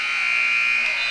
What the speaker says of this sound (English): Not quite with the buzzer beater, Dustin.